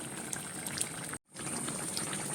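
Fish curry bubbles in a pot at a steady simmer, a dense, soft crackle of popping bubbles that drops out for a brief moment before resuming.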